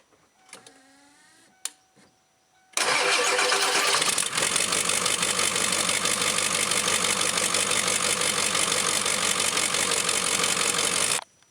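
A 1996 Ford Powerstroke 7.3 diesel with the downpipe off and only the open turbo, a brief starter crank and then a loud, raw, roaring idle that runs steadily until it cuts off at the end.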